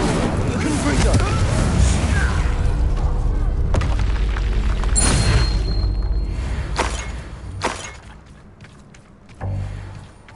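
A fiery Confringo spell blast in the Hogwarts wizarding video game gives a deep, rumbling boom. It rolls into further explosive thuds and crackling effects amid continuous game action, and a player speaks at points.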